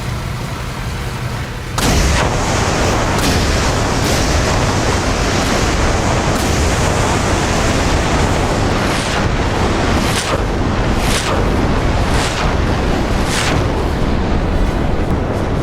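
Missiles launch and explode. After a quieter opening, a loud roaring blast erupts suddenly and holds as a dense, continuous rumble, punctuated by repeated sharp bursts.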